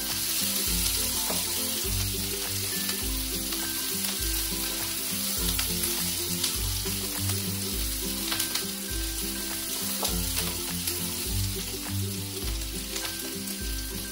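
Onions fry in a pan while being browned for egg rice, a steady loud sizzle that runs the whole way through with faint stirring underneath and no voices.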